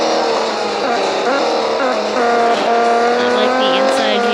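An Audi hypercar in the Real Racing 3 racing game roars at high revs, its loud engine tone rising and shifting continuously with gear changes throughout.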